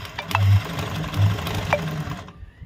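Sewing machine stitching a leaf embroidery pattern in Aari-style work, running with a steady mechanical whir and rhythmic needle pulses, close and alone without any talk.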